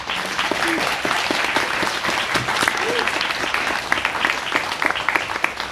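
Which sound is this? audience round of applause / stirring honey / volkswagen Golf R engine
audience round of applause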